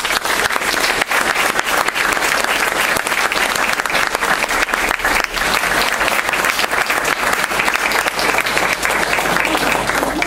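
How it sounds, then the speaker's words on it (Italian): Sustained applause from a large crowd at an honorary citizenship ceremony in Guardavalle, Italy, steady and loud throughout with dense clapping and no pauses. "Un applauso."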